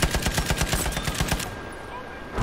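Type 11 LMG light machine gun in Battlefield V firing a steady rapid burst of close, punchy shots for about a second and a half, then falling off into background game ambience.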